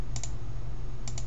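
Typing on a computer keyboard, heard as two short pairs of quick key clicks separated by a pause, close and fairly clear over a steady low hum.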